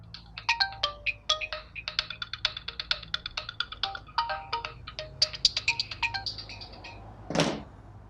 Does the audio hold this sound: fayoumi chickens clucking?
no